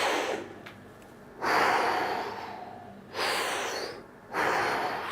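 A person breathes during a squat exercise, with three strong, airy breaths at steady intervals, close to the listener and with no other sound.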